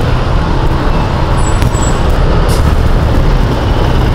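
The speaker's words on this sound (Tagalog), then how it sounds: "Laki ng mga truck, oh." Heavy trucks and other traffic rumbling past on a busy city road near a bike lane, a loud continuous roar with a brief air-brake hiss, heard close by.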